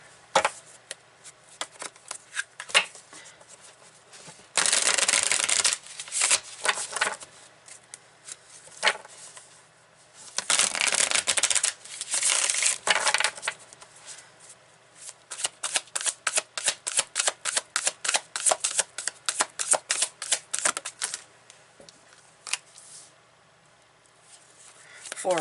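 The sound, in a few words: tarot cards being shuffled and pulled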